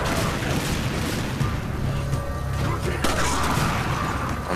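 Enemy gunfire in the video game Resident Evil 5: dense booming shots and crashing impacts under a busy game mix, steady and loud for the whole stretch.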